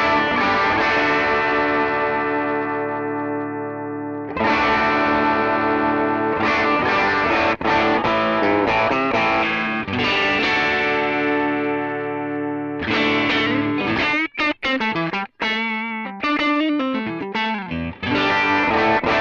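Electric guitar played through a Nux MG-300 multi-effects unit with cab equalization, distorted and chorused, with sustained chords, a pause, then choppier phrases, loud and alone.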